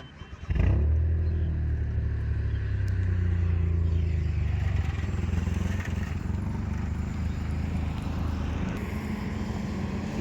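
A manual car's engine cranks and catches, then settles into a steady low rumble that continues as the car pulls away.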